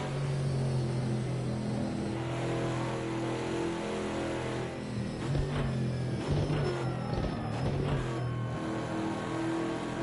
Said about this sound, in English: Love the sounds of the transmission. Gearing down, it's pretty nice.